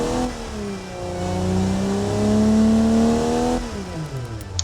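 Ford 300 cubic-inch 4.9-litre inline-six from 1964, fitted with a larger-diameter exhaust, revs up and holds a rising, steady engine note before dropping back to idle, close and loud with no talk.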